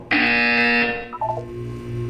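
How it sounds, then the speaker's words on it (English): A loud, steady electronic buzzer from the Portal 2 video game sounds alone for nearly a second, then cuts off, leaving quieter tonal game sounds and a low hum. "You will hear a buzzer."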